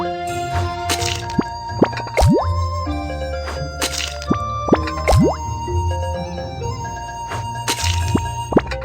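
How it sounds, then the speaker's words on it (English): Cartoon-style cracks and sharp drips sound over a bright, chiming musical backing as boiled egg shells are cracked, with several distinct snaps and sliding plops spaced across the scene. "Crack the shells so the eggs will soak up the flavor of the sauce."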